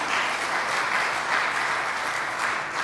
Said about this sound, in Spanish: ¿Cuántos le dan un aplauso?